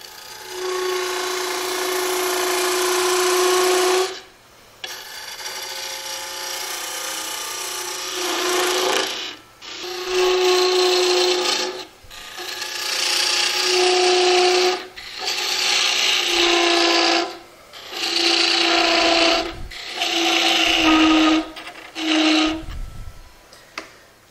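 A spindle roughing gouge cuts wood on a lathe with negative rake, giving loud sustained bursts of steady whirring and scraping with a humming tone, separated by short pauses as the tool is lifted and repositioned.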